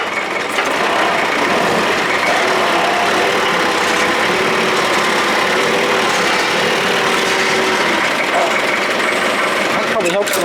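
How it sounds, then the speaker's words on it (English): An air-start forklift engine turns over and then runs at a steady, loud idle that drones close by throughout, with a rattly mechanical hum and a few clunks near the end. "Now to start these air start forks, you got to put your foot on the brake, and then you just press the start button."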